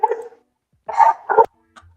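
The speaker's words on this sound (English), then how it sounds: "Whose dog is that?" A dog gives a few sharp, close barks: one short bark, a pause, then two quick barks in a row, with a faint yip at the end.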